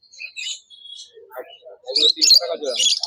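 Budgerigars chirp and tweet in short, bright bursts at a busy bird market, sounding close and lively, with a voice speaking briefly among the calls.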